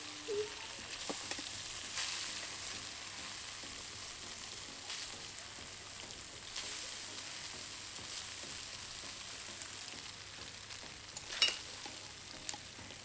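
Mixed vegetables frying with Maggi masala and sauce in a pan, a steady low sizzle with a few stirring scrapes and clinks, no voices.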